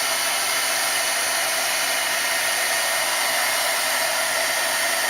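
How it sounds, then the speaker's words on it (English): A handheld embossing heat gun blows hot air in a steady, loud, unbroken roar that holds constant from start to finish, with no other sounds or talk. "I'm going to take my embossing gun, a heat gun, and get it hot"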